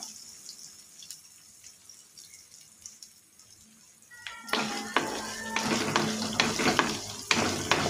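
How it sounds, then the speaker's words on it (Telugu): Carrot pieces and peanuts hit hot oil for red broken wheat upma, quiet clinks at first, then a sudden loud close sizzle with repeated stirring scrapes. "ఇవన్నీ మొత్తం అన్నీ బాగా వేగేలాగా వేపుకోవాలి."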